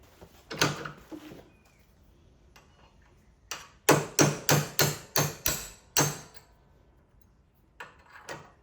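A small hammer strikes metal sharply, tapping out a Chevy/GM C10 truck door hinge pin: first a couple of isolated taps, then a quick run of about six rhythmic blows, followed by a few lighter knocks.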